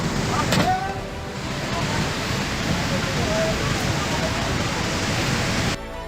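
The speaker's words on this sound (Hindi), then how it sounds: "अब ये एक दूसरी इंडियन बस है जो अचानक ही नदी की बाढ़ में खींची चली जाती है।" Indian river in flood during the June 2013 Uttarakhand floods, sweeping away a bus: a loud, continuous roar of rushing floodwater that fills the whole clip with steady noise until a slight drop near the end.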